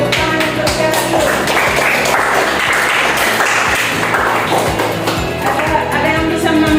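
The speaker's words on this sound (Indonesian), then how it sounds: "Tepuk tangan untuk kita" A classroom of students claps together, a dense rhythmic patter of many hands close by, sustained throughout with some musical tones mixed in.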